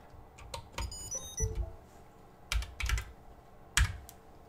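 Clacky keystrokes on a computer keyboard, typed in several short bursts with pauses between them, close and fairly loud with no voices.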